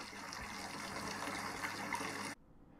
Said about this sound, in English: now I'm splashing this wort into my fermentation vessel, creating as much air to look after the yeast as possible